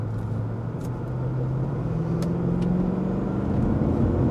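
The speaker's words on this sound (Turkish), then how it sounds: "Oh, V8." A Lexus LFA V8 engine accelerates on the road, a steady rising drone with a gradually climbing pitch, close and loud throughout with no talking.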